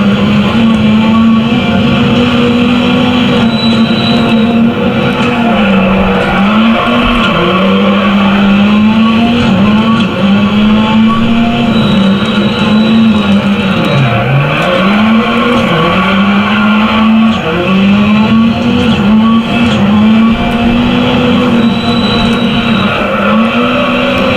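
Rally cars race in the video game Dirt Rally on a rallycross event, with a loud, continuous engine drone that rises and dips with gear changes, joined by occasional tire skids and no talking.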